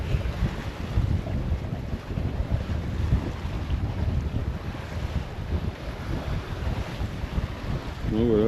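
Steady wind buffets the microphone while choppy sea slaps and washes against a moving boat, with small whitecapping waves; a continuous, close, rough roar with no clear talk.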